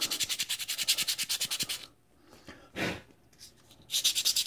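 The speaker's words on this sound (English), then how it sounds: "I'm going to take and clean up the inside a little bit with" Sandpaper rubbed by hand inside a small part, a rapid series of rhythmic scratchy strokes, then a pause with a single longer swipe, and the quick back-and-forth strokes resuming at the end.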